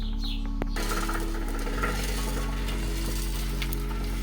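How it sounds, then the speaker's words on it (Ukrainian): Bolts being tightened onto a concrete mixer drum, a steady run of close ratcheting clicks with a low mechanical hum underneath throughout. "надіваємо бочку, надіваємо наші болти і загвинчуємо це все."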